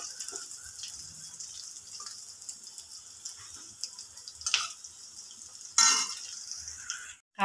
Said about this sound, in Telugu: కాకరకాయని తిరగేసి కూడా ఫ్రై చేసుకుందాము